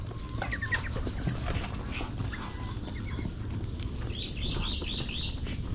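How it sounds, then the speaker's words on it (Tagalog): Several roosters cluck and chirp close by, with short bursts of clucking over a steady farmyard background and no talking. "Yung tatlo na to, puro barako yan."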